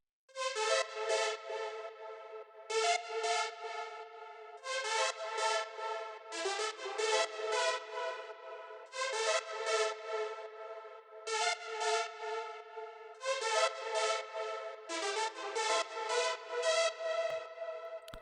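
A bright synth lead plays a clean melodic Afrobeat line in short repeated phrases, each a quick run of bouncy notes separated by brief gaps, steady and fairly loud with no voices.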